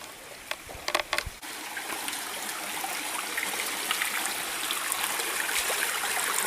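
Footsteps splash through shallow stream water on small steps at the Chhabimura steps site in Tripura, a few sharp splashes at first, then a steady close rush of flowing water.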